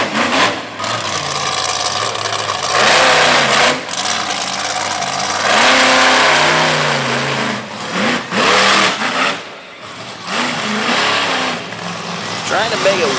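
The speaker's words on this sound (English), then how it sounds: "when he nails the throttle to try to get the truck turned with all that power and weight over the rear tires" A monster truck engine revs hard at full throttle at a Durham, Connecticut arena show, loud rising and falling roars as the heavy truck turns, under steady commentary from an announcer.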